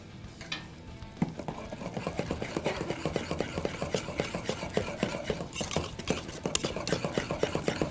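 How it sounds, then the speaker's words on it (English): A whisk beats steadily against the inside of a pot of cake mixture for a white Texas sheet cake, a fast continuous scraping rhythm that stays close and fairly loud, with no talking. "I'm just gonna whisk this a little bit"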